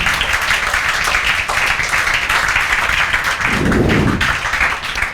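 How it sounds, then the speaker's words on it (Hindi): Students clap together in a classroom during a maths lesson, a steady dense patter of hands filling the room, with a heavier burst of thumping near the end. "बहुत बढ़िया, बजाओ भाई तालियां"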